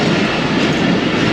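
The Shah Latif Express rolls past in Sindh, Pakistan, a loud, steady, broadband rumble that fills the short stretch without a break.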